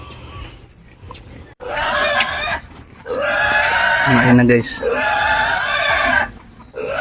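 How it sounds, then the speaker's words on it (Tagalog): A pig at a Christmas gathering in Nueva Ecija, about to be slaughtered, squeals in loud, piercing bursts with brief pauses between, close by, while people talk nearby. "Magkakatay na ng baboy"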